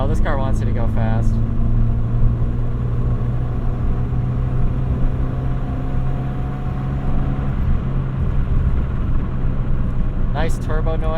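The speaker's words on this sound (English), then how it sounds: "Nice turbo noise." A 1990 Nissan Pulsar GTIR with a turbocharged engine, heard from the cabin as a steady low engine drone with a rising whine while driving, with brief talk at the start and end.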